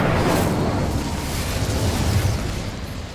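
Incendio fire spell cast in the video game Hogwarts Legacy, a loud, dense roaring burst of flame that sustains across the whole moment without pause.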